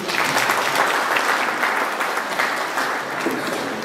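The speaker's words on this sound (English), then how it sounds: "Round of applause for her, please." Audience applause at a felicitation ceremony for a UPSC civil services achiever, a steady, dense clapping from a crowd that holds at an even loudness for the whole stretch.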